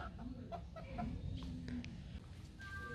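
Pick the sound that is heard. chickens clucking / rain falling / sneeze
chickens clucking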